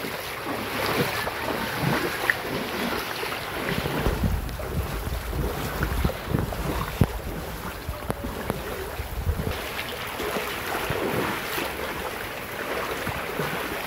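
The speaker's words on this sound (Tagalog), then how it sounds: "Parang ilog na yung kalsada." Floodwater runs down a street in Tacloban, Leyte, as a continuous rushing, splashing wash, loud and close, with gusts of wind buffeting the microphone throughout.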